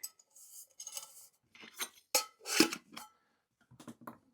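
Light titanium camping pots clink and scrape as they are squeezed and nested together, a scattered series of close metallic knocks and rattles with quiet gaps between them.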